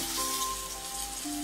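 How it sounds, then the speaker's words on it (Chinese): Tofu pan-frying over low heat in oil gives a soft, steady sizzle, quiet and close, with a few faint tonal hums beneath the crackle. "然后放入豆腐，全程小火煎至两面金黄"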